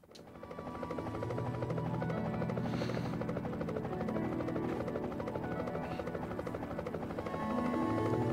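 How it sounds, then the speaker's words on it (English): A helicopter in the video game GTA: Chinatown Wars drones with a steady rotor buzz, fading in at first and then holding at a moderate level, heard alone. "Zhu has a helicopter."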